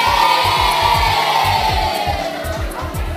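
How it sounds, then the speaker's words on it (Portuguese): A crowd of children at a municipal school in Piauí shouts and cheers together, a loud, sustained collective roar that holds steady for a few seconds. "dá um grito."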